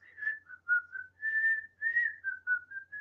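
A person whistles a tune from Snow White and the Seven Dwarfs, a short, clear, close melodic phrase of bright, bouncing notes heard alone.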